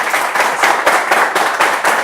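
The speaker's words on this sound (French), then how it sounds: "Sous les acclamations du public." Audience applause at a live French-language broadcast, a loud burst of close, rhythmic clapping that pulses steadily for about two seconds with no voices.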